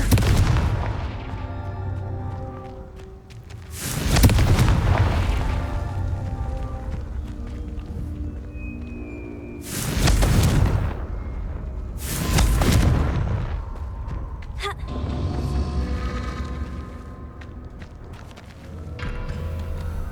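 Confringo spell explosions in Hogwarts Legacy, several heavy booms at intervals with deep rumbling tails, loud and close over steady game ambience.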